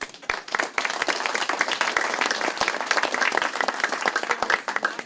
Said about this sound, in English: I just want to give you guys an applaud